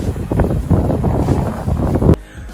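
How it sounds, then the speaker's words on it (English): A DJI Tello drone hovers high in midair while being pushed by the wind, with loud, buffeting wind noise dominating the microphone and only a faint motor hum underneath before a sudden drop in level. "here's the drone flying in midair as high as it can, just hovering with the wind blowing it."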